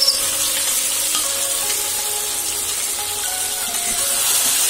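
Potatoes frying in oil in a pan with onions and curry leaves, a steady dense sizzle that stays loud and even throughout with no talking.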